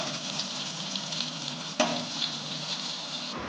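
Rawas fish frying in a pan, a steady dense sizzle and crackle of hot oil close up, with one brief clunk midway and no voices.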